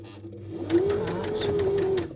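Sewing machine stitching the sides of a shirred waist skirt, a steady rapid whirring hum with fast needle ticks, fairly quiet and close.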